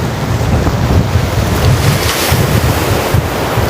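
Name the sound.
sea waves breaking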